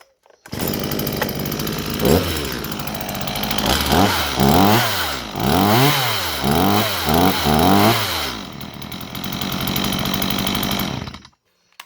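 A small Stihl MS172 chainsaw starts and idles, then revs up and down in repeated throttle bursts before cutting off, loud and close.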